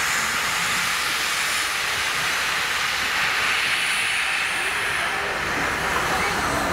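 A steam locomotive at a steam-engine parade in Bratislava releases a loud, continuous broadband hiss of steam, close and steady throughout with no break.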